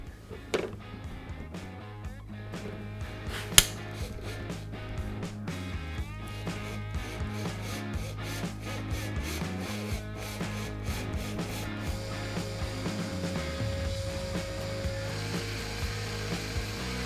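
A power drill with a 3.5mm bit hums and grinds continuously at moderate volume into a broken bolt, with a sharp click partway through and rubbing, scraping tones against the metal.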